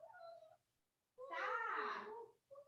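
A house cat meows indoors, two short mews bracketing one longer, drawn-out wailing meow, fairly close and fairly quiet, with a soft low hum underneath.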